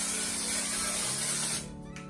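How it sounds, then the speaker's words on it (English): A continuous hissing dry shampoo aerosol spray, close by, runs for about a second and a half and then cuts off, leaving quiet. "Make sure you shake it up before you spray it on too."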